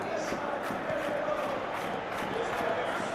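A stadium crowd in a PS3 football video game roars in a continuous, dense wash of cheering and chanting, with a steady level and no break throughout.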